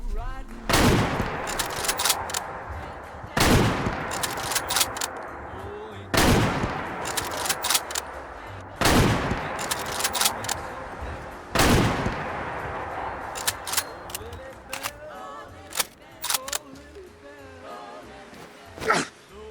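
PGM Hecate II anti-materiel rifle fired in the game Fallout 4, five heavy booming shots at steady intervals, each followed by the clatter and clicks of bolt cycling and reloading.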